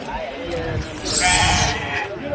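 A goat bleats a few times close by at the Saturday livestock market in Angallu while people talk over it.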